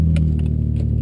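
A loud daily-driver car engine drones steadily up close for about a second, a low continuous hum with faint clatter on top.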